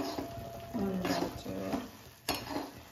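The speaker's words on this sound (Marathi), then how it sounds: "गूळ फुलल्यावर त्याच्यात आपण भाजलेले तीळ टाकायचे 8 पाव आणि त्याला चांगलं हलवून घ्यायचं" A spoon scrapes and stirs roasted sesame seeds into melted, foaming jaggery in a pan, with soft scraping strokes over a low sizzle and one sharper clink of metal near the end.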